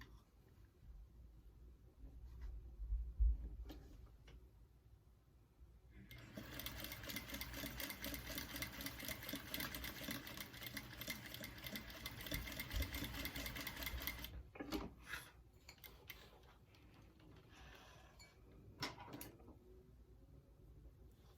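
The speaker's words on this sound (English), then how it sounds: "you're gonna top stitch down this edge" A sewing machine top stitches along the edge of a bag as zipper tabs are attached: a steady, fast mechanical whirr of stitching runs for about eight seconds, framed by quieter handling and fabric rustle before and after.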